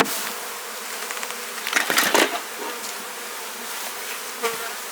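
Honey bees buzz in a dense, continuous swarm around an open hive, close and steady, with a few louder passes near the listener.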